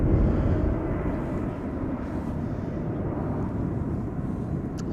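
Airliner passing high over Schiphol Airport, a broad, low rumbling roar that starts strongest and holds steady as the aircraft moves away, distant and unaccompanied by speech.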